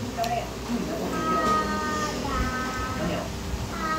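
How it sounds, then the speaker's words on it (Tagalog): A cat meows a few times indoors in a home, the calls mixed with people talking nearby. "Meow, meow."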